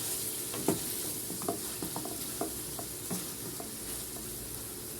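Liver frying in a pan with half a lemon squeezed in, stirred through: a steady close sizzle with a few soft scrapes of the utensil against the pan.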